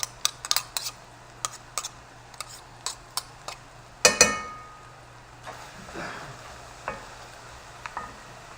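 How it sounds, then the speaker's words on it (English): Metal spoon scraping and clinking against the bottom of a pan of caramelizing onions for Ethiopian doro wat, a run of quick sharp ticks with a louder clatter midway, then a soft sizzle beneath. "You have to keep scraping the bottom because you want it to be caramelized"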